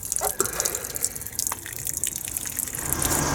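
Water trickles and drips from a frozen coolant overflow as a close, continuous splashing flow with small irregular drips throughout.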